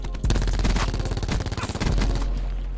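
Rapid automatic gunfire in the Call of Duty Black Ops 4 game, loud and close, a dense burst of shots that stutters briefly near the middle before resuming.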